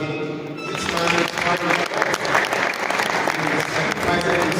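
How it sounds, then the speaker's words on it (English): A crowd claps again at a community gathering, a thick, continuous round of applause that swells after a brief quieter opening and stays full and even throughout. "Can you please clap again?"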